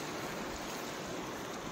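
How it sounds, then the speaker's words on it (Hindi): A small river near a waterfall flows with a soft, continuous broadband rush, faint and steady with no other sounds standing out. "ये देखो नदी नदी चल रहे हैं"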